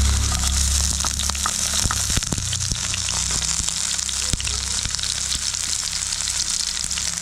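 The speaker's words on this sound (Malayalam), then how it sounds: "രണ്ടും കൂടി നന്നായിട്ടൊന്ന് വഴറ്റി കൊടുക്കാം." Ginger and garlic sautéing in a pan, a steady close sizzle and frying crackle with occasional sharp clicks and scrapes of stirring, no talk.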